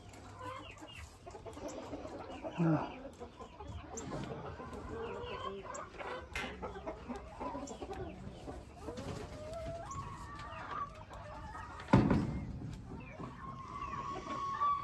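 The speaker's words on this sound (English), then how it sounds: "So that is the chickens," Chickens cluck on and off in a farmyard, several birds near and far, with a sharp squawk partway through and a voice talking at times.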